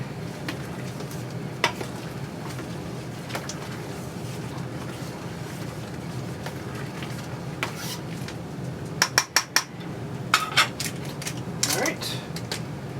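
A spoon stirs homebrewed Dead Ringer IPA wort in a one-gallon pot, with soft scraping over a steady low simmer and a few sharp metallic clinks near the end.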